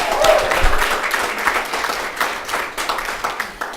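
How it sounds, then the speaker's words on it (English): A studio audience claps for the host in bursts of close applause that swell early and gradually thin out toward the end. "Let me give you a round of applause."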